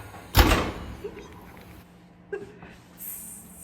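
A low home oven door thuds shut in a kitchen while brunch is made, one loud heavy clunk up front followed by fainter knocks and clatter.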